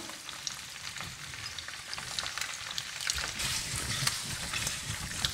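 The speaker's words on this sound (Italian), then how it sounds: "Mi salto di nuovo il tutto, aggiungo una manciata di parmigiano" Orecchiette with broccoli, speck and toasted bread tossed and sautéed in a pan, giving a steady close sizzle and frying crackle with light stirring scrapes throughout.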